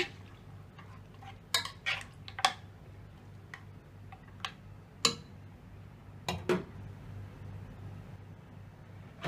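Mutton being mixed in a pressure cooker pot gives sharp, scattered metallic clinks and taps of a spoon against the metal, irregular and close over a quiet background.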